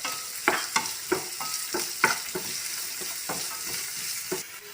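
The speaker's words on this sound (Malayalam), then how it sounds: "ഇതിലേക്ക് നമുക്ക് അരിഞ്ഞു വെച്ചിട്ടുള്ള സവാള ഇട്ട് കൊടുക്കാം. എന്നിട്ട് ഇത് വീണ്ടും മിക്സ് ചെയ്യാം." Chopped onions with garlic frying in a pan, a steady sizzle under repeated scraping stirs that come in a loose rhythm, close and fairly loud, with no speech.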